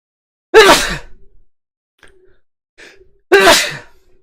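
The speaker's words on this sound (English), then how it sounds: "I'm going to sneeze." Two loud, sharp sneezes close to the microphone, separated by a few seconds of quiet with faint breaths between them.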